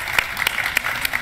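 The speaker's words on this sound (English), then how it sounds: "let's give him a round of applause." Applause from a small audience after a Smash Bros match, steady clapping with a few louder claps standing out, lasting about a second.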